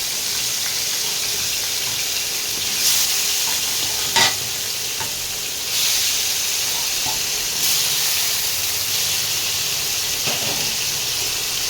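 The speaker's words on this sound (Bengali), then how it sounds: "আলুগুলোকে একটু লাল লাল করে ভেজে নিতে হবে।" Potatoes fry in hot oil with salt and turmeric, producing a constant bright hissing sizzle heard close up, with a few brief scrapes and taps of a stirring utensil against the pan.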